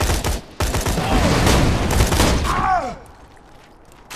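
Rapid gunfire from a gun in Borderlands 2, dense sustained volleys close and loud for about three seconds after a brief break, then dropping away to a quieter tail.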